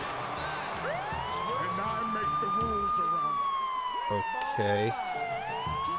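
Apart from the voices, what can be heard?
siren sound from Roman Reigns entrance clip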